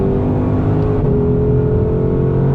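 A 2020 Ford Shelby GT500 Mustang accelerates under throttle, its engine a loud, steady, dense roar heard from inside the car with no voices.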